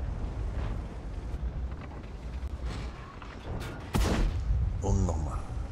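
Tank cannon fire in World of Tanks, a K-91 medium tank battle on the Fjords map: a heavy booming shot with a mechanical clatter lands near the middle over a low battle rumble, while a player talks in German in the background.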